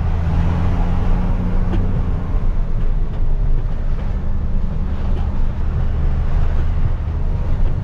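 A truck engine recorded from inside the truck's toolbox gives off a loud, continuous low rumble and roar, steady and close throughout with no pauses.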